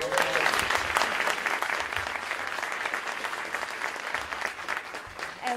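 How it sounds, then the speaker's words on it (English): Steady, dense applause from a crowd clapping for several seconds, fairly close and loud throughout, with no speech over it. "Please give him another round of applause"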